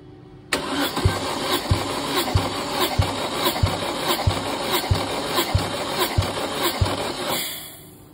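A 2011 Opel Astra with a 1.6 engine cranks on the starter during a cylinder compression test, a steady rhythmic chug of about a dozen even compression beats after a whirring start, then stopping.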